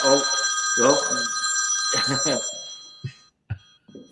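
A telephone rings with an incoming call while people talk over it, the steady ringtone running under their conversation before the call is silenced and the ringing stops.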